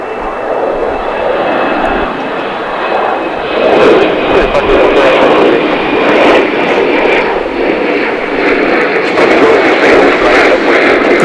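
An Aeromexico Connect airliner takes off for Mexico City from DFW International Airport, a loud sustained jet engine roar that swells partway through and keeps rumbling.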